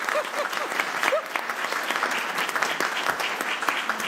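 An audience at a school board of education meeting claps after an award announcement, with moderately loud, steady applause and a few brief voices in the room.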